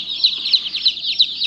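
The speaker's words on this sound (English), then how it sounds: "What do you think of all the chickens?" Small chicks peeping in a high, rhythmic chorus of repeated bright chirps, steady and close, with no one speaking.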